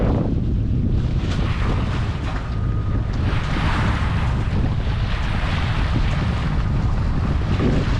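Sailboat off Sardinia motoring under engine power in light wind, with a constant close rumble of engine and water rush mixed with buffeting wind noise, no voices.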